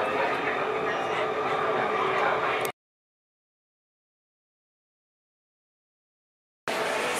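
Riding a Bangkok metro train: steady loud rumble and rolling noise inside the car, cut off by a stretch of total silence before the rumble resumes briefly at the end.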